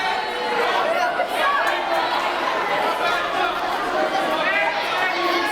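Crowd at a Global Championship Wrestling show: a loud, continuous roar of chatter and shouting that fills the whole stretch without letting up.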